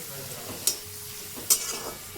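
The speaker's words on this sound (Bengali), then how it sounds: "এগুলো দিয়ে এখন আমি বেরেস্তা বানিয়ে নেব" Chopped onions fry for beresta with a close, steady crackling sizzle. Two sharp utensil clinks and scrapes against the pan cut through as the onions are stirred.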